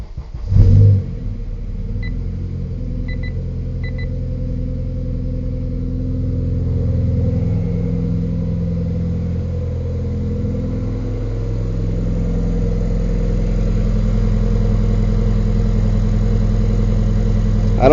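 A 2006 Honda Civic Si engine cranks and catches with a short burst, then settles into a steady, loud idle rumble that rises slightly and holds for the rest of the span.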